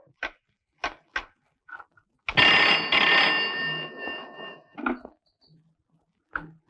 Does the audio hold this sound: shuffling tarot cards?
no